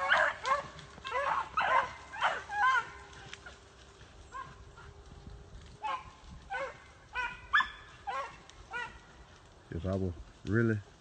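A hunting dog chasing swamp rabbits through water barks in repeated bursts, with higher yips and whimpers in between, loud and close, while someone talks over and between the barks.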